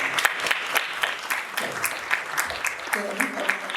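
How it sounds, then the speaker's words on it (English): Audience members at a mental health summit at a college clap for the panelists, a moderately loud, steady patter of many hands, with a voice briefly rising over it near the end. "can you give the panelists a round of applause, everybody?"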